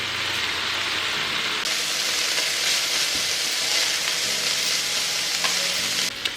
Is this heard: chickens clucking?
no